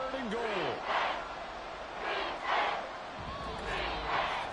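Stadium crowd at an NFL game with the Cowboys late in the fourth quarter, roaring and cheering in steady swells under a commentator's voice.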